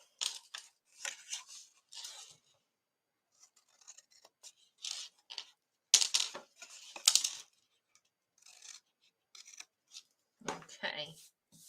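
Scissors snipping small tiny triangles off little paper squares for a die-cut daffodil card craft, a string of quiet close crisp cuts in short bursts separated by silence.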